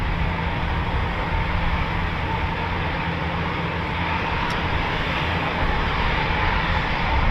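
A Eurofighter Typhoon FGR4 jet engine roars at an RAF station, a steady, unbroken broadband rumble and hiss that holds level throughout with no talking.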